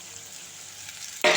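Garlic and curry leaves fry in a pan with a faint, steady sizzle. A sudden loud burst of hissing erupts near the end.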